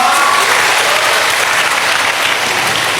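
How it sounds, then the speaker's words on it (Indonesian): Audience at an Islamic talk breaking into loud, continuous applause, a thick close wash of clapping hands that holds steady for three seconds. "Tepuk tangan dong buat Mas Noval."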